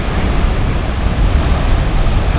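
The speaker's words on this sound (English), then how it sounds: "Lots of fun watching crashing waves on the rugged west coast of Vancouver Island" Broad, continuous roar of surf breaking on the rugged rocky west coast of Vancouver Island at Chin Beach, steady and loud with wind noise mixed in and no distinct individual crash standing out.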